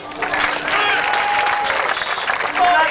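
Outdoor audience at Baltimore's Inner Harbor claps for a break dance show at the 2012 Star-Spangled Sailabration, continuous loud applause with scattered cheers and a chatting crowd mixed in.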